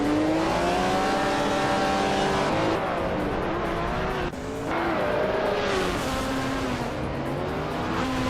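A BMW 320e turbo race car in a racing video game, its engine droning loud and continuous with rising and falling pitch through gear changes, a brief dip midway, then climbing again.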